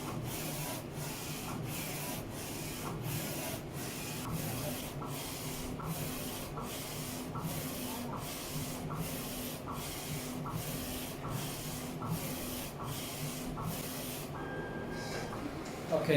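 An Alpha-Jet flatbed UV printer laying down a varnish layer, its carriage sweeping back and forth in a steady rhythm of evenly spaced passes, moderately close and with no talking, until it stops near the end.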